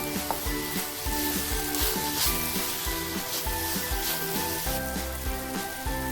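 Grated coconut sizzles in ghee with soft crackling and stirring rubs, heard beneath a louder, steady musical backdrop.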